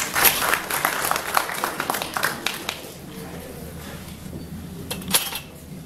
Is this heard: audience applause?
yes